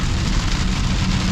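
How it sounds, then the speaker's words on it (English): Heavy rain drums loudly and continuously on the body of a moving 2024 Mercedes-AMG GLE 63 S with a V8, a dense, unbroken roar heard from inside the car with no talking. "Now we're like inside of the clouds, so it's gonna be super, super rainy"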